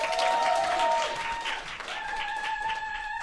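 An evening audience at a company product lecture greets the speaker with loud, continuous applause, broken by high whoops and cheering voices from the crowd.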